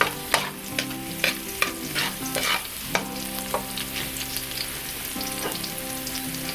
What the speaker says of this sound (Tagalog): mag light brown yung ating bawang